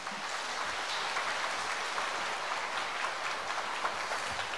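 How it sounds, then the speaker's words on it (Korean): An audience applauds steadily at the close of a university admissions strategy lecture, a dense, continuous clatter of many hands clapping at moderate volume with no voices over it. "다시 한번 큰 박수 부탁드릴게요"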